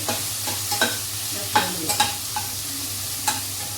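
Onion, chili and tomato fry in masala in a pan, a steady close sizzle under repeated soft stirring scrapes and occasional utensil taps, with no voices.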